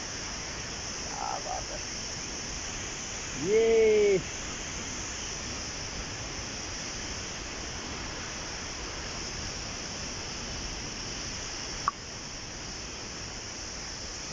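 A waterfall on the trek back from Kedar roars as a steady broadband rush that fills the whole scene, with someone speaking briefly over it and a short click near the end.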